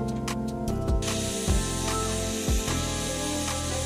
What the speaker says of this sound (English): I'm just going to use a flapper disc on my grinder, grind away a little bit there